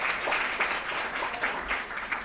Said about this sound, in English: Now you may clap.